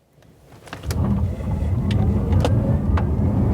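A 2023 Genesis Electrified G80 electric sedan under full-throttle acceleration from a stop: low road and tyre rumble with a faint motor whine, rising from quiet into a steady, close roar, no speech.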